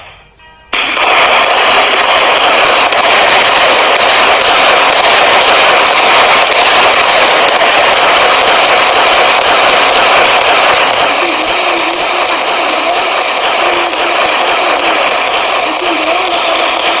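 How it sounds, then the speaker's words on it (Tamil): Rocket fireworks from an Android phone app burst in a loud, continuous barrage of rapid bangs and crackles that runs unbroken after a brief quiet start. "49 rocket bombs. It's go to the clouds."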